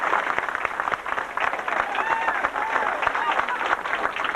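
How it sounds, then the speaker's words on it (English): Steady crowd applause at a Bakery Cup anniversary celebration in Ballyshannon honouring a winning team captain, dense continuous clapping with voices mixed in throughout. "Round of applause for him and his team."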